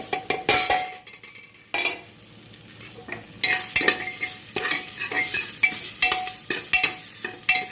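Sliced onions frying in a pan with ginger-garlic paste, a steady sizzle broken by repeated scraping and clinking strokes of a spoon against the metal, close and fairly loud.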